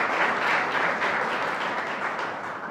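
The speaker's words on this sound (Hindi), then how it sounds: "आप भी तालियों के साथ उनका स्वागत करें।" Audience at a college Hindi Day ceremony applauds to welcome guests, a dense, loud, continuous burst of many hands clapping that tapers slightly near the end.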